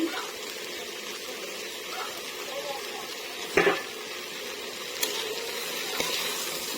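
Boiled chickpeas being stirred in a pan for chola bhuna: a soft, steady sizzle of frying with a few sharp scrapes and knocks of a utensil against the pan, no talking.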